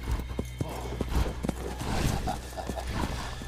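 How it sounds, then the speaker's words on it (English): The king's horse in the 2010 film Robin Hood clops along in a quick, steady run of hoofbeats. The hooves sound close, over a low rumble with shouting voices mixed in. "That's the king's horse."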